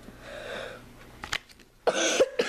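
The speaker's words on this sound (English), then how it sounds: "I still have a little bit of a cough." A person with a lingering cough coughs close by, with short harsh bursts rising out of a quiet room, separated by brief pauses.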